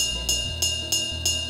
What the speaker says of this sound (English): in places that it would have made more sense to use a ride cymbal like this.